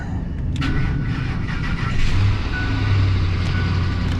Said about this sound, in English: Let's get this truck started.